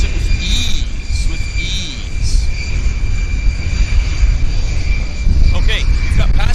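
An airplane takes off and climbs away from Vancouver airport as a steady, loud engine roar holds throughout, with a high whine on top and speech faintly under it.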